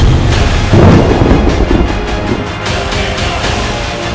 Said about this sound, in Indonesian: tambah petir